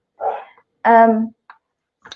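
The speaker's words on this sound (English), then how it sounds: "I am working from home if you hear dogs barking." Dogs bark in a home while someone works from it: a short bark, then a longer, tonal bark, followed by two brief yips, all fairly loud with silent gaps between them.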